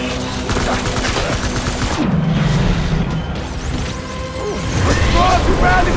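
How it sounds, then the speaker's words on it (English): Gunfire in the video game Death Stranding, with rapid bursts of shots and crashing impacts that are loud and continuous, joined by in-game voices. "Open fire."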